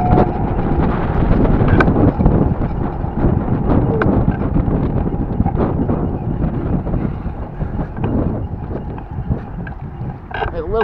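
Strong wind buffets the microphone outdoors during a ride, a loud, continuous roar with gusty thumps throughout. Faint talk sits underneath.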